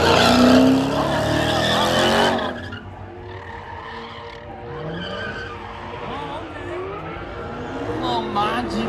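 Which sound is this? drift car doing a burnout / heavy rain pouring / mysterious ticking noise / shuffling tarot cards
drift car doing a burnout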